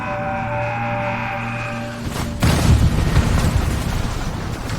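A single heavy boom of 79-pound naval cannon fire bursts in after a low tonal hum, followed by a rumbling, crackling decay that lingers for a couple of seconds, in a Battle of Iquique reenactment.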